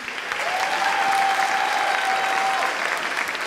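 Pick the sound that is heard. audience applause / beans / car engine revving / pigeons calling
audience applause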